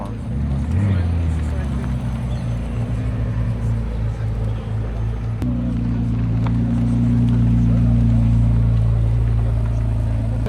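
A McLaren 600LT Spider engine rumbles loud and close, its deep low drone holding steady and swelling slightly as it revs, with people talking over it throughout.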